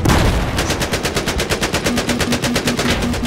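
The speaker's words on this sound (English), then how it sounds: "Someone shooting at us." Rapid automatic gunfire rattles in a Battlefield 4 Conquest Large match on the Zavod 311 map, a loud, sustained stream of evenly spaced shots.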